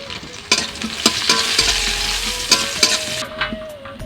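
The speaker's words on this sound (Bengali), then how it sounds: "এখন আমি পেঁয়াজ দিয়ে দিচ্ছি" Onions fry in hot oil with a continuous loud sizzle, broken by repeated sharp clinks and scrapes of a spoon stirring against the pan.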